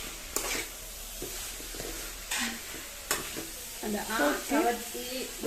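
Onions sauté in a pan with a soft steady sizzle punctuated by several sharp stirring scrapes and clanks, close by, with a voice talking briefly toward the end.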